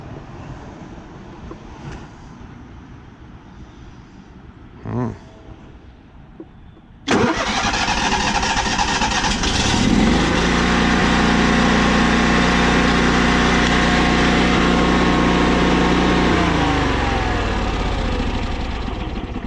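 A generator engine cranks and catches after a few faint knocks, then runs at a loud steady idle close by, its low hum shifting slightly midway.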